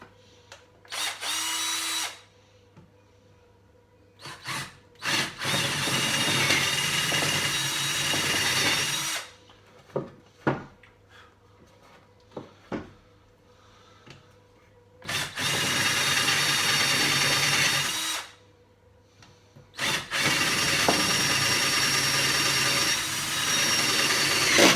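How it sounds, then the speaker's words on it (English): A power drill fitted with a 10mm bit bores into wood for shelves in several loud sustained bursts of whirring and grinding, separated by short pauses and brief taps. "it's the only 10mm drill bit that I've got."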